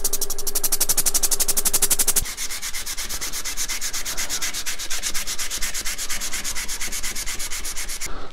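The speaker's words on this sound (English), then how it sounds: "otherwise it's going to start sanding off the corners, the edges, rather than the piece that it's actually touching as it rotates around" Sandpaper held against a five-sided lidded vase spinning on a wood lathe gives a steady, loud abrasive rasp with a rapid rhythmic pulse from the rotating corners, continuing throughout without speech.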